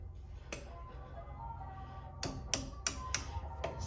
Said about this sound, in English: We are going to grab our little hammer.